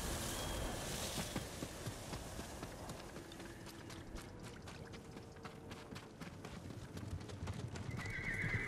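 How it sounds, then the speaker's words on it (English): Horses in the video game Ghost of Tsushima clip-clop across the ground with a rapid, continuous galloping patter, and whinnies rise over the hoofbeats, at moderate distance with no speech. "Hey, horses."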